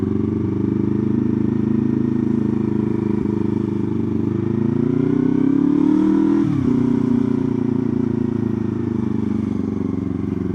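Motorcycle engine heard from the rider's position while filtering through traffic, a loud steady drone that rises in pitch as the bike accelerates around the middle, then eases back down, with no talking.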